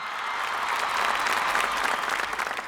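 Dense, steady applause from a large audience at a Tamil comedy debate show, filling the whole stretch at an even level with no voices rising above it.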